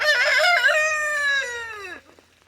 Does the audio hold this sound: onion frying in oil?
no